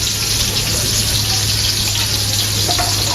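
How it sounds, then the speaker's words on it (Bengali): Onion, ginger and garlic paste fries steadily in a pan with dried chilli and bay leaf, a continuous close sizzle with a faint clink near the end. "এবার পেঁয়াজ আদা রসুন ভালো করে ভেজে দিব"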